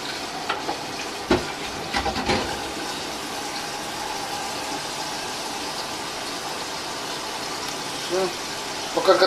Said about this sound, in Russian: Пока котлеты жарятся